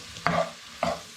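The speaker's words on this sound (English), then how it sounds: "Let's get back to the frying pan. I'm just going to give that a stir around." Onions and carrots stirred in a hot frying pan: three quick scraping sweeps over a soft, steady sizzle, close by and with no voices.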